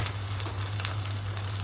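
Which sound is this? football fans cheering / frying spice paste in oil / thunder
frying spice paste in oil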